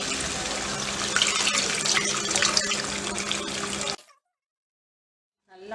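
Tamarind water is poured into a pan of curry leaf kulambu, a steady close splashing and trickling that runs for about four seconds, then stops in silence before a faint bubbling returns.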